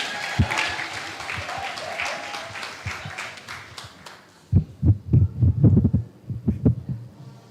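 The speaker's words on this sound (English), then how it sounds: "let's give Ms. Clark a round of applause" Muffled applause from a room at a summer course closing ceremony, a wash of clapping that gives way to heavier, uneven thumping claps toward the end.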